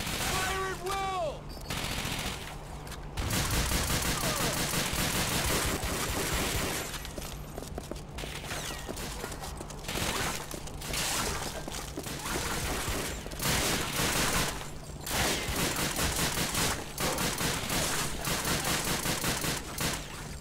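Continuous automatic gunfire in the video game Call of Duty: Finest Hour, in a World War II battle on the road to Remagen, with dense rattling bursts and scattered heavy impacts over constant battle noise and game voices.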